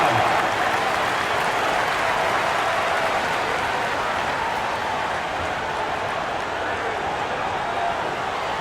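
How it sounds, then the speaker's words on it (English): An arena crowd at a Lakers vs Magic NBA regular-season game applauds the new dance squad, a loud, continuous wash of clapping and cheering that fills the whole stretch without letup. "please give a big round of applause for your new dance squad"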